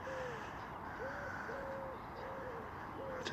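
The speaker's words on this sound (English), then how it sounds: "I'll just be quiet a minute for the bird sounds." Repeated hooting bird calls ring out by a canal-side lake, several drawn-out tonal hoots spaced a second or so apart over a steady outdoor hiss, moderately close and clear with no talking.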